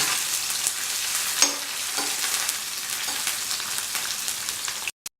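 Onions sizzling steadily in hot oil until golden brown, a close, dense frying hiss with occasional stirring scrapes and clicks, cutting off abruptly near the end.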